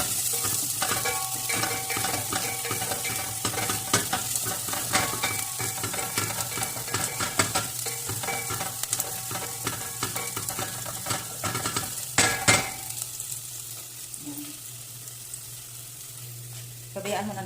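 Onions frying in a pan give a steady, close sizzle throughout, broken by scraping and clinking strokes as they are stirred, with a brief louder scrape near the end and no talk.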